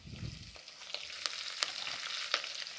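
Mustard seeds, fenugreek, cumin, garlic and curry leaves frying in hot oil for a village-style cowpea curry, a quiet steady sizzle dotted with sharp pops and crackles after a brief clatter.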